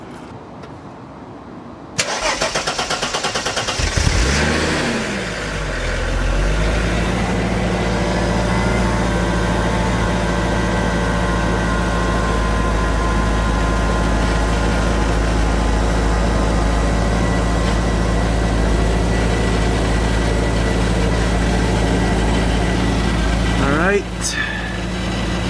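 A Mercedes W202 C36 AMG is cranked and fires up, revving briefly before settling into a steady, loud idle that runs on close by, with a voice speaking over part of it.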